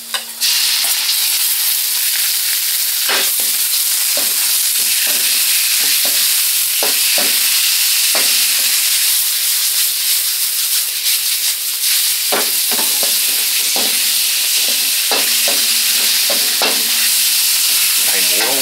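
Baby bok choy is stir-fried with oyster sauce in a hot pan: a loud, continuous sizzle close by with repeated scraping and tossing strokes throughout.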